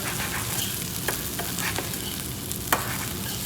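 Potatoes for tacos fry in a pan with a dense, continuous sizzle, broken by a few quick scraping stirs and taps of a utensil, close and steady.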